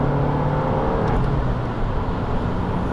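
An Abarth 695 Rivale, a 180 hp hot hatch, accelerating briskly with a steady, loud engine drone heard from inside the cabin, continuous throughout with no talking.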